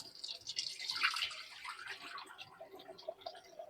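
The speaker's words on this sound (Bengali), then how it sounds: "একটু পানি দিয়ে দিই, পানি দিয়ে একটু সিদ্ধ করি," Water splashes and trickles into a pot of lentils with potatoes being set to boil at home, a close, soft pouring sound with small drips that tapers off toward the end.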